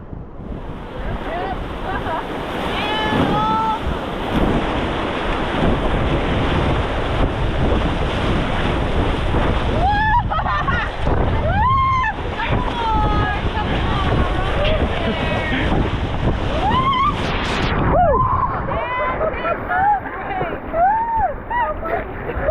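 River rapids at Cottonwoods rapid churn and splash steadily as a boat paddles through rolling waves, loud and close, with gusting wind on the microphone and voices shouting and calling over the water.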